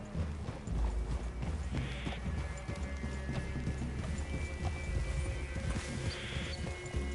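Horses' hooves clip-clop at a steady trot on open ground in the Red Dead Redemption 2 video game, continuous and moderately close, with creaking tack and faint ambient noise throughout.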